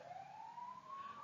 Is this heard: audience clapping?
no